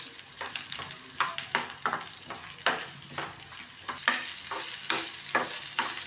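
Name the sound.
onion and garlic frying in oil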